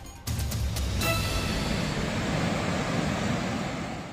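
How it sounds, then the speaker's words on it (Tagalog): Strong, heavy water flow roaring over a mini dam in Magdiwang, Romblon after heavy rain, a loud, steady broadband rush that starts abruptly and continues unbroken. "Malakas ang naging agos ng tubig sa mini dam na ito sa bayan ng Magdiwang sa Romblon"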